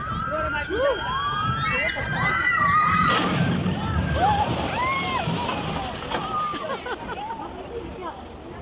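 Splash ride boat at Joyland amusement park in Rawalpindi dropping into the water with a sloshing splash, while riders shout and scream and someone talks over the noise.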